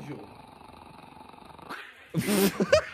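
A dog growls low and steady while eating, a rumbling snarl that breaks off before a burst of louder noise and voices.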